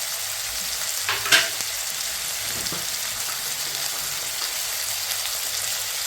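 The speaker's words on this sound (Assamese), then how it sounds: "এতিয়া অকণমান মাংসখিনি ফ্ৰাই কৰি ধুনীয়াকৈ" Chicken pieces frying in a pan with salt, a steady soft sizzle throughout with a brief louder stir or scrape near the start, no voices.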